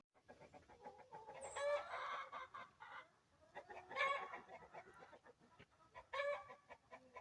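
Leghorn hens clucking and cackling in bursts, a lively chorus of squawks rising and falling, fairly close and clear with no talk over it.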